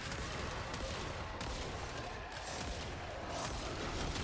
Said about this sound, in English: I am literally shooting in that general direction.